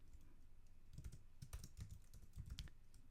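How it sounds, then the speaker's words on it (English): Someone types on a computer keyboard, producing a quick, soft, irregular patter of keystrokes close by in a quiet room. "we just type now what the correct answer is"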